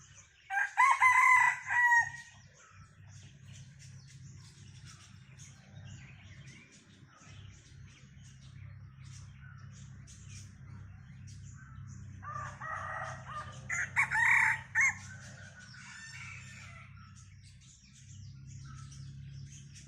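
Gamecock roosters crow loudly at the start and again midway, long strained calls over a low steady hum, with fainter clucks and chirps scattered between.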